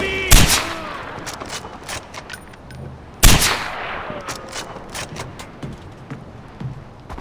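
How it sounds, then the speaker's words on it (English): Gunfire in the Far Cry 4 video game, with two loud, sharp blasts several seconds apart followed by trailing rattles and clatter. "I'm on the machine gun!"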